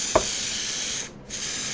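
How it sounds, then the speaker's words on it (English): A small, little can of spray paint with a fairly large tip, giving a steady close hiss across a box after a brief click, then stopping with a short gap before resuming. "I pretty much covered this entire box with a little bitty wannabe can of spray paint."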